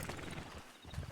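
A horse's hooves clip-clopping on the ground in a quick uneven patter, close and moderately loud.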